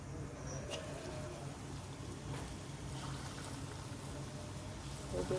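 Whipped lentil batter drops into hot oil in a wok and fries with a steady, soft sizzle and crackle like light rain, fairly quiet and even throughout.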